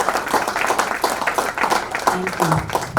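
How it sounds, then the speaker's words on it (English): Audience applause at a book launch event, brisk dense clapping close by with voices speaking over it and chatter rising near the end. "Can we have a big round of applause for this talented friend of mine?"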